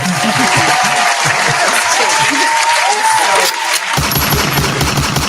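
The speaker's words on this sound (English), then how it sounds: "Man, y'all, just clap for no reason," A church audience claps in a loud, dense, continuous wash of applause, shifting to a slightly different, brisker texture near the end.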